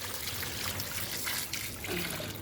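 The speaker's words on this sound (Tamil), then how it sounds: "இது நிறையிற அறை தண்ணி ஊற்றிக்கலாம்" Water splashes and trickles steadily as it is poured into a cooking pot, a close, continuous liquid sound.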